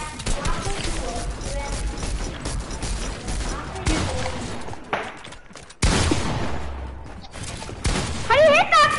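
Infantry rifle gunfire in a PS4 shooter game rings out in sharp volleys and single cracks, with loud bursts separated by brief gaps and voices talking over the action.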